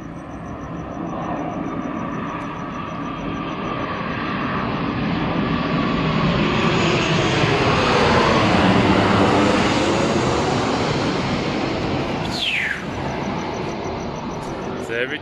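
An airplane passes low overhead above a Mexico City hostel, a loud broad engine roar that swells to a peak mid-pass and slowly fades. A faint high whine is layered over it, with a brief sharp sweep near the end.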